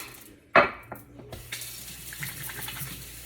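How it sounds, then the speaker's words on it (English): Tap water runs as seasoned pieces of steak are rinsed in a sink while sous vide cooking in a multi cooker, a sharp splash at first, then a steady, fairly close trickle with faint clinks of dishes. "rinse that off a little bit again"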